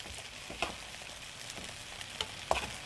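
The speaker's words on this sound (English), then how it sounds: "when you're stir-frying vegetables, you got to really get things moving" Vegetables sizzle steadily in a hot pan, with occasional louder pops and scraping stirs breaking through the continuous frying hiss.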